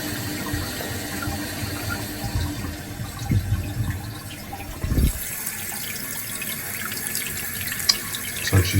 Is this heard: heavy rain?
no